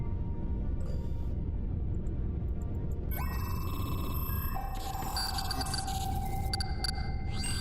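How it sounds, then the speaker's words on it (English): Harsh 56K dial-up modem handshake from the video game STASIS: Bone Totem, a steady noisy hiss topped by shifting high tones and squeals that change partway through, loud and continuous with no voices. "I like the modem. The 56K noise."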